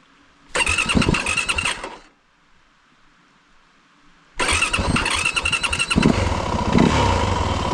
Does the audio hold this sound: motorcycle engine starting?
yes